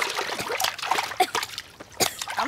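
Water splashes close by as a young boy learns to swim, with irregular sloshes, splatters and trickling bursts. A few faint voices sound in the background.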